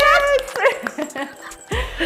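A dog gives a whining, yelping bark among quick sharp noises and chatter, close by, with people talking in the background.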